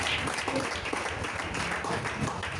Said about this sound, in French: I will clap for the Lord.